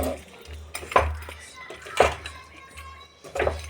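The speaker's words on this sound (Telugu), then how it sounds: "ఇందులో మనం తయారు చేసి పెట్టుకున్న గోబీ బాల్స్ని వేసుకోవాలండి" Fried gobi balls dropped into a pan and stirred, with three distinct metallic clanks of a spoon against the pan over a quiet kitchen background, a voice speaking in between.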